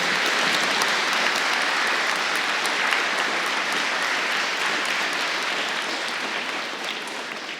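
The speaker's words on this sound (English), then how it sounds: "I think you all deserve a big round of applause." Loud, sustained applause and cheering fill a school Relay For Life kick-off rally, a thick wash of many hands from a large audience that holds steady and eases slightly toward the end.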